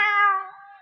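A single clear cat meow, close and loud, rises and then trails off in under a second, with no talk around it. It comes from a lenong folk theatre domestic comedy.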